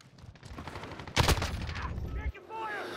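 Call of Duty Modern Warfare gunfire erupts suddenly in a loud, close burst of rapid shots partway through, over ongoing match noise. A voice speaks briefly.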